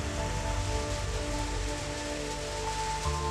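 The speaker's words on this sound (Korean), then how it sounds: "시원스레 쏟아지는 빗줄기를 차곡차곡 모아줍니다" Steady rain shower pouring down at a sea village, a dense continuous patter of drops hitting surfaces nearby as rainwater is collected, with no voices.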